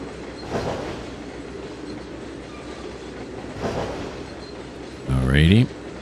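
A freight train runs in Trainz 2022 with a low continuous rumble of rolling cars. A loud horn-like blast comes near the end, and someone talks over the train noise.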